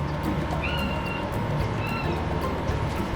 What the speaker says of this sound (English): here's our second kitty trying to get a piece of pie